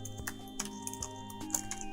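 Code is typed on a computer keyboard in quick, irregular keystrokes, soft and close, with a faint steady hum underneath and no voices.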